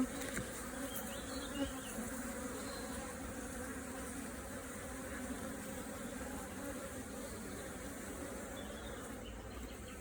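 A dense, steady drone of many honey bees buzzing inside a hive, continuous and close with no pauses.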